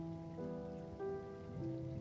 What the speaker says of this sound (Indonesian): hujan di luar deras